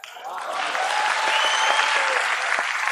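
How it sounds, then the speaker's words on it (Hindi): An audience at a religious discourse breaks into applause that swells within the first half second, then holds as a dense, steady roar of clapping for nearly three seconds. "तालियां बजाइए"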